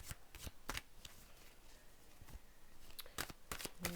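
Oracle cards from an elemental deck being shuffled by hand, a series of quick riffling bursts and soft card slaps in a quiet room, close and fairly faint, with no talking.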